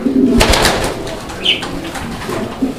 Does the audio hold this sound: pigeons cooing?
yes